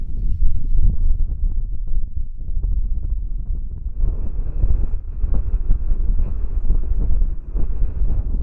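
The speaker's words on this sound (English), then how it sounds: "Breezy." Steady wind blowing across an open hilltop in the Lake District, buffeting the microphone with continuous low roaring gusts and no pauses.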